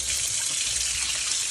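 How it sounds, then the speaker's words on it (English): Tap water gushing steadily into an empty plastic laundry detergent container, a loud, close, continuous hissing rush with no voices. "I added water to rinse out the last little bit into my washer"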